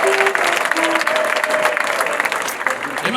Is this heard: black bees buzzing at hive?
no